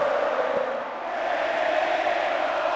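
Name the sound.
crowd cheering in WWE Smackdown video game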